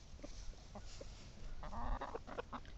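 Backyard chickens clucking and calling among a mixed flock with roosters, several short bursts near and far over steady outdoor noise.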